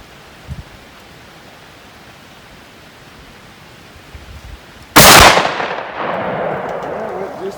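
A Mossberg 835 shotgun fires a slug outdoors: one sharp, loud blast after several seconds of quiet, followed by a rolling echo that fades slowly.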